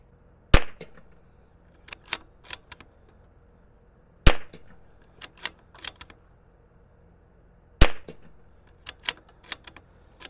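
A Zermatt Rim-X bolt-action rifle fires three sharp, loud shots spaced a few seconds apart, each followed by lighter clicks and clacks of bolt handling.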